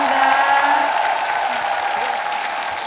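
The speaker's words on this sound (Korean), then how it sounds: "박수 부탁드리겠습니다." Studio audience applauding on a Korean TV singing competition show, a dense, steady wash of clapping that holds at an even level throughout, with faint tonal music underneath.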